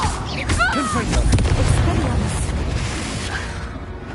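Confringo blasting spell cast in Hogwarts Legacy, a booming explosive burst with crackling debris and rumbling tail, mixed with swooshing magic effects and voices.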